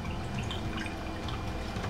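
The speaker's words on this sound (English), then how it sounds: "we pour a little bit into each glass" A smoked Manhattan cocktail is poured from a mixing pitcher through a julep strainer, a little at a time, into glasses. The liquid makes a soft, steady trickle, quiet and close, with no talking.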